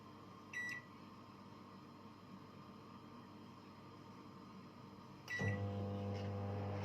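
A microwave oven cooking potatoes: a faint room hum, a short beep near the start, then a second beep followed by the low steady drone of the oven starting up and running on to the end.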